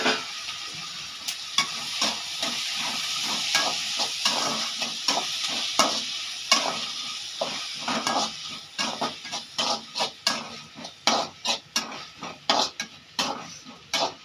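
Onions and tomatoes sauté in a pan while a spoon stirs them. A constant close sizzle runs throughout, broken by repeated sharp scraping and tapping strokes that come faster toward the end.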